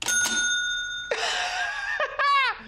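An antique cash register under repair rings its bell in several bright, close metallic dings, each ring sustained briefly with a shimmering tone and short pauses between strikes.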